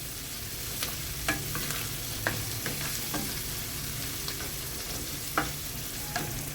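Onion and capsicum fry in a pan with a steady hiss of sizzling oil, broken by a handful of sharp spatula clicks and scrapes at irregular intervals, with no talking.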